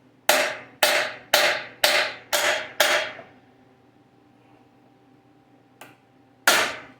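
Six sharp, evenly spaced smacks ring out close on a part of a vintage Honda generator, each one decaying briefly, followed by quiet, then a light tap and one more hard hit.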